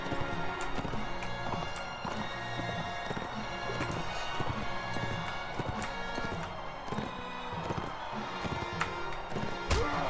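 Galloping horse hooves from the video game Mount and Blade Warband pound rhythmically and keep going, close and steady, with battle noise in the background.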